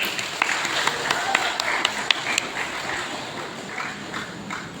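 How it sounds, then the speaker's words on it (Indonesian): Audience clapping for children at a church gathering, a scattered patter of hand claps at moderate distance that fades out over a few seconds. "Tepuk tangan dong buat anak-anak kita."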